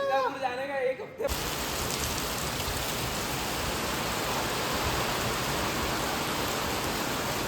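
Heavy monsoon rain pours down in Lonavala, a loud, steady broadband roar that fills the scene after a brief stretch of talk at the start.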